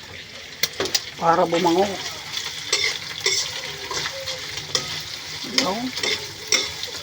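Chili peppers fry and toast in a pan while being stirred, giving a steady close sizzle with scraping and clinking, under intermittent talk.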